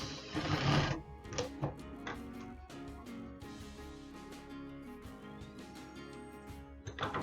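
A sewing machine stitches a non-woven bag, running in short bursts with a sustained motor hum and fast needle rattle, a brief loud rustle at the start, no voices.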